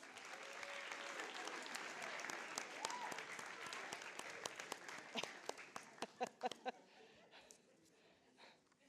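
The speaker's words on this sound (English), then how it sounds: "How about one more round of applause for them?" Audience applause at low level at a school board meeting, steady clapping from a group that thins out toward the end into a few scattered claps.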